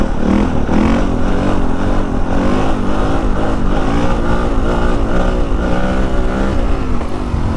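A dirt bike engine revs hard while riding, its pitch rising and falling in repeated throttle surges, loud and close throughout with no talk.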